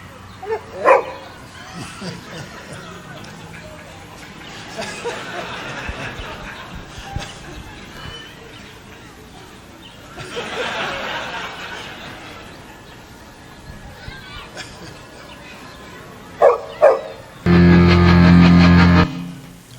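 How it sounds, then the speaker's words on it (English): A dog gives a few brief, scattered barks and yips amid background noise and people talking, with a loud steady tone cutting in near the end. "Look at the cute dog."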